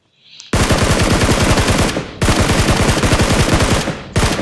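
Loud, close bursts of rapid automatic gunfire in the mobile battle royale game PUBG Mobile: three long sustained strings of shots with short gaps between them, and no voices over the firing.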